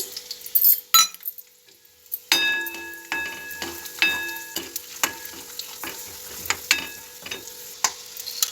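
Peanuts fry in a pan of oil with a soft, quiet sizzle, punctuated by scattered clinks and scrapes of a spatula stirring, a sharper clatter early on, no voices over it.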